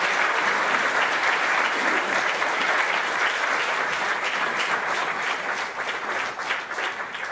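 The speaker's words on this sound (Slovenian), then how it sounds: "Aplavz prosim." Concert audience applause in a cultural hall at a brass band performance, with dense sustained clapping from a large crowd, steady and loud throughout and thinning slightly near the end.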